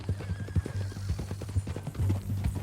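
Horse hooves clip-clopping steadily with a neigh, in the Red Dead Redemption 2 video game; a rhythmic, close trot running throughout alone, without speech.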